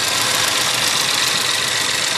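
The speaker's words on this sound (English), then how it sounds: "Here it is running right now." A 2012 Chevy Equinox 2.4-liter four-cylinder engine idles steadily, a loud, continuous broadband running drone with no talk over it.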